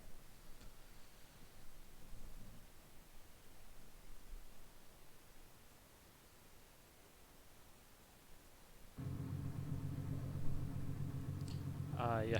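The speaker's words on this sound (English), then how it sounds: "this car is pretty loud. You can already hear it rumbling and idle" A classic rally car at a 1972 rally competition sits at idle; after faint background hiss, its low engine rumble sets in steadily and fairly close for the last few seconds.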